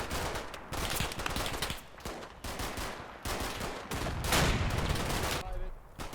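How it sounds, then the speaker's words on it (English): Dense gunfire and explosive blasts from a recoilless rifle and small arms fill a Combat Mission: Final Blitzkrieg battle for a hill, loud repeated booms and bursts with barely any pause between them. "The recoilless rifle is still hammering my buildings, making it harder and harder to maintain fire superiority."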